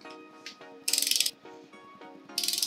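A ratchet wrench clicks in bursts while tightening cylinder head bolts on a Nissan 350Z engine, several rapid loud clicking runs between quieter tonal creaks and pauses, close up with no talking.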